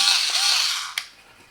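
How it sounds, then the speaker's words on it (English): A Parkside 4V cordless screwdriver whirs briefly while backing out a screw, a short motor hum that stops and ends with a small click. "And now let's remove the screws."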